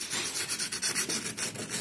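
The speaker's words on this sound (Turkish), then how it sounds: "Bu şekilde zımparayla hafif hafif çok bastırmadan pürüzlükleri gideriyoruz." Sandpaper rubbed lightly by hand over the rough edges of a handmade cement planter or vase, making a brisk, rhythmic series of about eight close, raspy strokes with no voices.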